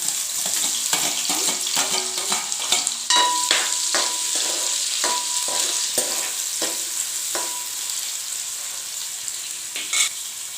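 Onions fry in a pan for a Telangana-style chicken curry, a steady close sizzle broken by repeated scraping stirs of the spatula against the pan, with no talk.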